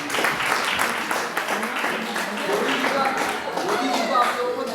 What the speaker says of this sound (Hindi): अभी तो आप लोग तालियां बजा सकते हैं